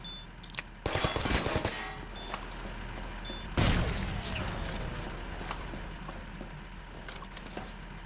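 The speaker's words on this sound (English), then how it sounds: "Half-Life turret." Automated turret firing in a Half-Life 1 total conversion mod, rapid bursts of clattering gunfire with a heavy impact, set against a steady low game-world hum.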